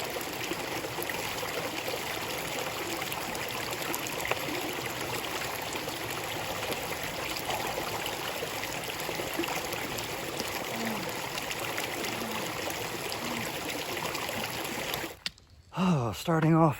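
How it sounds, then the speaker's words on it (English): A forest creek on the Appalachian Trail with overhanging branches, flowing in a steady, close, broadband rush that continues unbroken until a brief disturbance near the end. "The creek wasn't very tenkata friendly, lots of overhanging branches."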